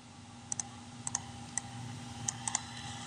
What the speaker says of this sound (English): First, I'll type out some text.